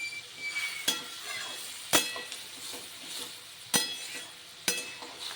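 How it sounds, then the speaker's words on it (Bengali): Sesame and pointed gourd curry stirred in a pan with a utensil, a few sharp clinks of metal against the pan standing out over a steady soft sizzle, with no talking. "এবার আমি নাড়াচাড়া করে মিশিয়ে একটা ঢাকনা দিয়ে ঢেকে দেব"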